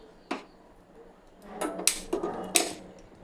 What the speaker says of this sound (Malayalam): അതിനുശേഷം സ്റ്റൗ കത്തിക്കുക.